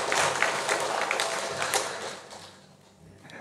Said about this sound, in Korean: 우리 격려의 박수를 보내드리겠습니다